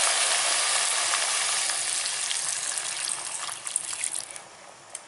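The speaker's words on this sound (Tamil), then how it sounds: "இப்போ வந்து சிக்கன் முழுகிற அளவுக்கு கொஞ்சமாக தண்ணி விட்டுக்கலாம்." Water is poured into chicken frying in a pan for a village-style chicken chinthamani, producing a steady, dense sizzle with bubbling that slowly eases toward the end, close and continuous, with no talk.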